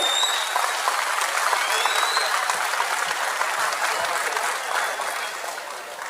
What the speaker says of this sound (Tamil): உங்களுடைய பலத்த கைத்தட்டல்கள்.